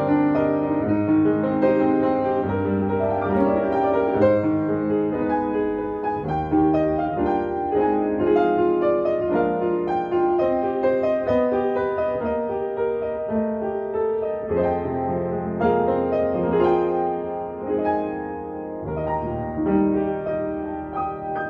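A refurbished Yamaha U3 upright piano, played with its lid opened out, gives a flowing passage of chords and melody. It is rich and full, continuous for about twenty seconds, with no talking.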